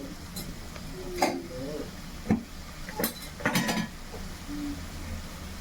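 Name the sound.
stirring salt into cucumber kurma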